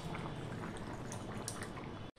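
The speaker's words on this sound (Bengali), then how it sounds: "আমি ভাজা মশলাটা দিয়ে প্রায় 30 সেকেন্ড মতন ফুটিয়ে নিয়েছি।" A fried spice masala mixture bubbles and simmers in a pan, a steady close crackle of boiling, cut by a brief pause at the very end.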